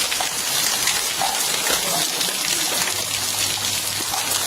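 Rain pours steadily outside a house, a dense, continuous hiss of falling water that stays loud and even throughout, with no voices.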